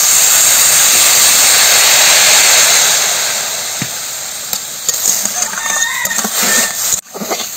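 Water poured into a hot pan of ghee-fried vermicelli, an intense loud hissing sizzle that slowly fades into lighter bubbling and spitting, with a brief clank near the end.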